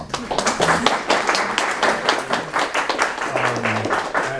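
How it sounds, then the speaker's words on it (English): Audience applause at a poetry reading for CavanKerry Press at the HUB in NYC, a steady patter of hand claps lasting several seconds with some murmuring voices mixed in. "we should give Jerome and Lydia another round of applause"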